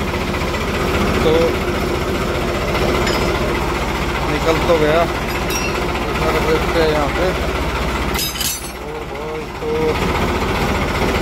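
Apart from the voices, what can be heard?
tractor engine running with ripper attached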